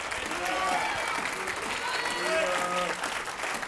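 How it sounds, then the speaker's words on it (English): A church congregation claps during a sermon, a sustained, fairly loud wash of many hands with voices rising through it. "Give God a hand clap today"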